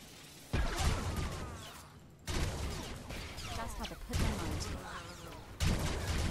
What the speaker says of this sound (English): those blasters sound awesome